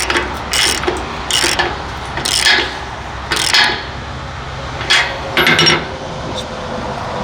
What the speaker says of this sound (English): you can just use a crescent wrench or ratchet